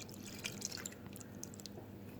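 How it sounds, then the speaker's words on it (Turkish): A glass of milk poured into mashed purple potatoes in a pot on the stove, heard as faint, close dripping and splashing sounds that trail off within a couple of seconds. "İçerisine bir su bardağı sütümüzü ilave ediyoruz"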